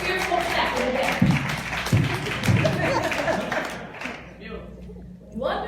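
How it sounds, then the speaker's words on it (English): Clapping in a church congregation during a sermon, a patter of hands with a few sharper claps under loud talking, fading toward the end. "a fearful clap in the back"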